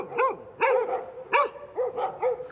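A dog with an all-black coat barks repeatedly at close range, six sharp barks in an uneven rhythm with brief gaps between them and no talking.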